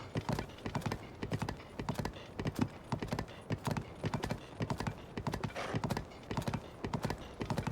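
Horse hooves galloping in Zelda: Tears of the Kingdom, a quick, steady rhythmic clip-clop repeating throughout, fairly close and alone without talk.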